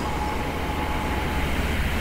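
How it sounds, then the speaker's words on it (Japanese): Steady low rumble and hum of an electric train pulling into a terminal-style platform at Ueno station, loud and continuous throughout, with no voices over it. "お、長野のリンゴのような色の電車がやってきました。"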